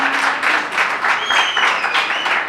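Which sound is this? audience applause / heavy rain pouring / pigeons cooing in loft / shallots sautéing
audience applause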